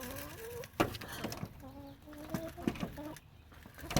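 Hens cluck and chatter while being fed organic egg-layer crumble, with short rising calls coming close together and soft pecking and patter beneath them, and a person speaking quietly in between.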